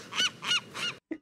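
A bird calls in The Lighthouse (2019) with three loud, honking squawks in steady rhythm, then one short clipped call, close and without other sounds.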